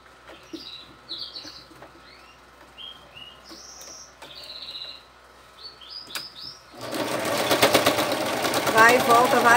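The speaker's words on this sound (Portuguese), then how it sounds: "E agora a gente vai costurar aqui." A sewing machine starts up near the end, stitching a fabric turban with a loud, dense close whir, after a stretch of birds chirping outdoors in the background.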